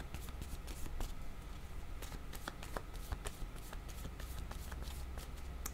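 Cards shuffled by hand during a tarot card reading, a steady run of soft riffling flutters and quick snaps repeating close by over a faint room hiss.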